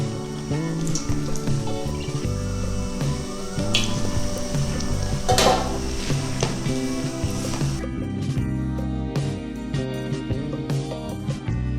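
Hands knead chapati dough with water and oil, giving soft wet squishing and dripping sounds that run steadily throughout, alone with no talk, under a continuous background music bed.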